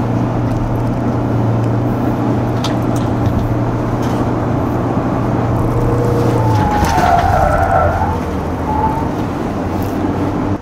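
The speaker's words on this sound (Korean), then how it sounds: "지금 와인딩 코스에 들어왔는데 본격적으로 한번 달려보겠습니다" A KGM Actyon Hybrid SUV driven hard along a winding road, a steady loud rush of road and engine noise with a low drone that drops off partway, followed by brief higher tire-like squeals.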